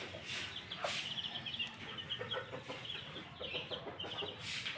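White Kelso chickens cluck and squawk near a hen that has been separated after fighting, several sharp calls over steady farmyard background noise, with no speech.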